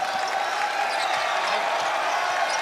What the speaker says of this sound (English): And the crowd getting loud.